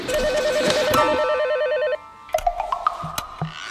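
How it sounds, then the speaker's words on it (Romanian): A telephone rings indoors with a loud electronic ringtone, a repeating warbling pattern for about two seconds, then cuts off and is followed by a few brief tones and clicks. "Nu, este un telefon."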